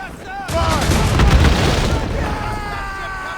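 Ship cannons boom in a naval battle in Assassin's Creed Rogue, a heavy burst of blasts rolling together loud and close, with crew voices shouting orders around them.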